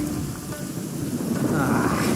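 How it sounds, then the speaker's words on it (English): A thunderstorm with rain in the video game Genshin Impact: a continuous wash of rainfall with a low rumble of thunder, steady and moderately loud, growing slightly toward the end, with no speech. "Uh-oh! Lightning storm!"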